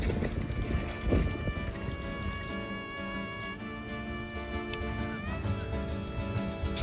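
Horses clip-clop on a road near San Marino, their hoofbeats close and rhythmic over a tonal whine and some background noise.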